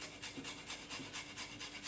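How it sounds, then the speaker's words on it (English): Fresh peeled ginger and garlic grated by hand for a bun filling, a steady rhythmic rasping of about a dozen quick strokes, close and fairly quiet with no talking. "Just peel and grate it in."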